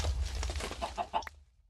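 Chicken in Minecraft modded with OpenBlocks, giving a short series of clucks in quick succession over a low background hum, ending with a brief sharper squawk before falling silent.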